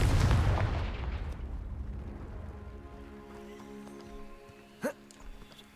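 An explosive spell is cast in a Harry Potter video game: a loud blast at the start decays into a long rumbling tail, followed by faint ringing tones and a sharp whoosh near the end.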